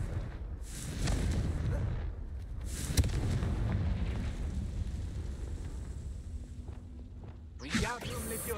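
A Confringo fire spell blasts in Hogwarts Legacy with a deep rumbling boom and a sharp crack near the middle, holding as a sustained roar before a final burst.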